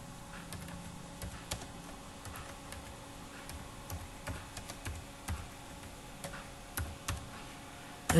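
Quiet, steady tapping on a computer keyboard while a member's name is entered into a microfinance management system, soft irregular keystrokes close by with no talk.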